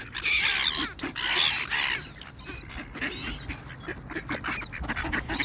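A flock of ducks and other birds calls loudly and busily at close range while being fed bread, with honking and quacking bursts overlapping, strongest in the first two seconds.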